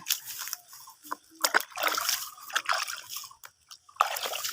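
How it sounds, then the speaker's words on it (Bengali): Water splashing and dribbling in uneven bursts as a daughter washes her mother's hands after making cow-dung cakes, with close trickles, splatters and short pauses. "আমার মেয়ে আমার হাত ধুয়ে দিচ্ছে"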